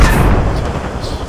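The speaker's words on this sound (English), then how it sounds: "I hit them with a grenade for 100." A grenade blast in Apex Legends, a loud, close boom with a heavy low rumble that decays over about a second.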